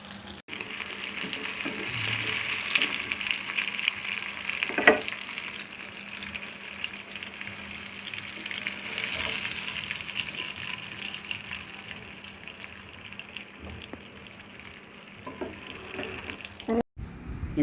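Fish fry in a pan with a steady, moderate sizzle that runs for the whole stretch, broken by a few soft clinks as the pieces are turned to roast on both sides.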